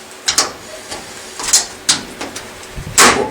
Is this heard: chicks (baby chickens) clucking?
no